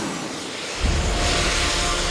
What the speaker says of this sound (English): Finally, the jet suit is launched.